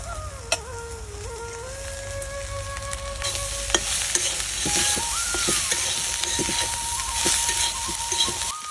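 Small fish sizzle in a pan with a few raw homegrown tomatoes as a tomato-and-fish chorchori cooks, a steady close frying hiss broken by occasional stirring clicks and scrapes.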